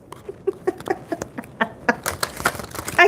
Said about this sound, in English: I can't believe how much it's raining right now.